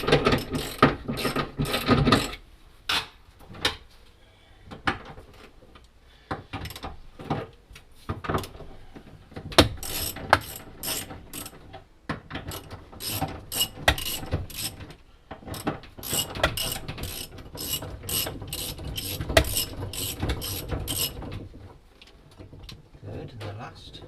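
A ratchet wrench loosens bolts from a Land Rover Discovery rear door hinge, with bursts of rapid clicking repeated in several close, loud runs separated by short pauses.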